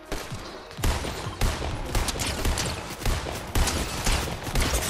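Dense gunfire in OG Fortnite trios on PC: loud, overlapping volleys of shots that keep going without a break, with bursts that peak roughly every second.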